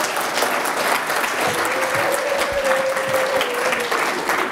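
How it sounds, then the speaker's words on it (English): Steady applause from an audience, continuous clapping filling the whole stretch, dense and fairly loud. "Peter, would you come and give him a clap, make him feel confident?"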